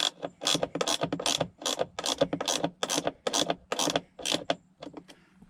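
A ratchet wrench tightens a nut while a gauge pod is fitted in a 2019–2021 GMC Sierra or Chevy Silverado with the 3.0 LM2 diesel, giving a rapid series of about a dozen close, crisp clicking bursts in steady rhythm.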